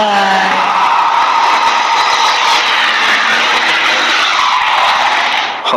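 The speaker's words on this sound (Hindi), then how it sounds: "और तुरंत कार निकल गई।" A car speeds away with a loud tyre-screeching, roaring rush that sweeps past and fades, a dramatic driving-off effect in a spoken horror story about a highway ghost.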